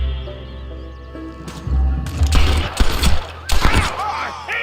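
A shootout in the Red Dead video game: a quiet ambient lead-in gives way to loud, rapid, overlapping gunshots in several close bursts, with faint game voices among the shots.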